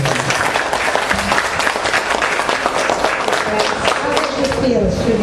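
A classroom audience at a school debate gives a round of applause, steady dense clapping throughout, loud and close, with some voices mixed in toward the end.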